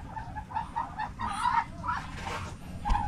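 Chickens and roosters clucking in a coop, a close series of repeated clucks and short calls with a rough, busy farmyard background.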